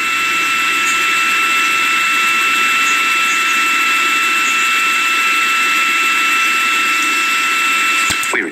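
A Centaur rocket second stage fires its engine during the first of two burns on the InSight launch, a loud, unbroken roar with steady whining tones that ends abruptly with a brief crackle.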